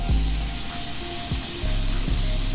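Lemon juice hits a hot pan and sizzles steadily, a close, continuous frying hiss with a few soft stirring scrapes.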